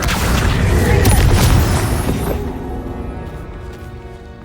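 A Confringo fire spell blast from the Hogwarts Legacy video game: a loud, booming burst that fills the first couple of seconds, then fades into a rumbling, crackling tail.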